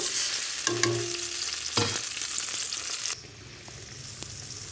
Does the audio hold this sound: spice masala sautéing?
yes